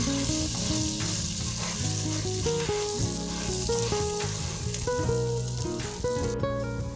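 Spaghetti and rice sizzle in melted butter in a pan, a steady frying hiss under loud background music with a bright melodic line.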